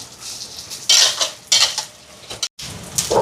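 Potatoes and dried Maldive fish being stirred in a metal pot, with repeated scraping and clinking of a spoon against the pot in bursts, close and fairly loud, plus a faint sizzle.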